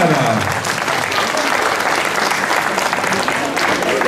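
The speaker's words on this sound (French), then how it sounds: "On peut les applaudir" Loud, dense applause from a crowd at a gastronomy fair in Le Mée-sur-Seine, honouring the chefs of the Académie nationale de cuisine and the table-arts team, steady and close for the whole span.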